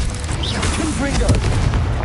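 A Confringo spell explodes in a Harry Potter video game, a loud booming blast sustained over two seconds, with a spoken incantation mixed into the burst.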